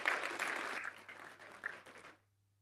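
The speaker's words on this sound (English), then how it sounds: "So give yourself a big round of applause." Applause from a gala audience, a fairly faint burst of clapping that holds steady for about two seconds and then fades away, with a low steady hum underneath.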